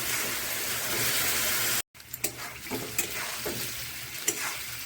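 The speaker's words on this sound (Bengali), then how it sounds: "ভাজা হবে খালি হলুদ দিয়ে" Potatoes seasoned only with turmeric sizzle loudly in a pan. After a brief cut, the sound drops to a quieter crackling fry with stirring clatters of a spoon against the pan and no talking.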